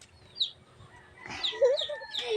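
Chickens cluck and squawk close by in short bursts, with a few higher calls mixed in over a quiet outdoor background.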